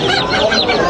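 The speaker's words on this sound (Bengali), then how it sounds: "এখানে কিছু দেশি মুরগি আছে আর এখানে হাঁস।" Desi chickens cluck steadily at Jinjira market, a dense overlapping chorus of hens heard close and fairly loud with no talking.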